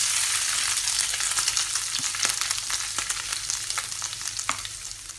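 Chicken pieces fry in a little oil in a pan, a loud bright sizzle that starts strong and eases slightly, broken by several crisp stirring clicks and scrapes, with no speech.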